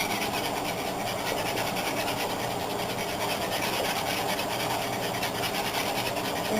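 A whisk scrapes steadily through homemade turkey gravy thickened with flour, a continuous close, fairly quiet rasping and swishing with no break.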